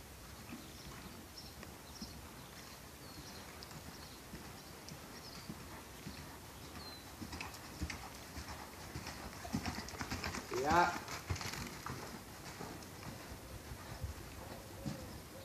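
A five-year-old horse works in canter in an arena during a riding lesson, hooves drumming in a steady rhythmic beat with a brief louder passage midway, as an instructor's voice talks over it.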